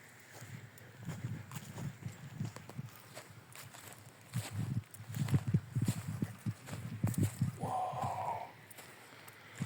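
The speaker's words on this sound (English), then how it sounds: "there's also a horse right over here" A wild horse walks nearby on a hillside by an Albanian monastery, its hooves thudding in uneven, soft clip-clops against quiet outdoor ambience, with a short higher-pitched sound near the end.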